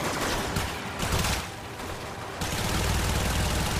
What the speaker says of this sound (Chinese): 听他的枪声很多